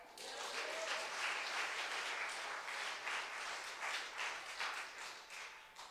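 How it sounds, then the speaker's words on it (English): A church congregation claps during a sermon, giving a steady burst of applause from many hands that lasts several seconds. "Give God a hand clap."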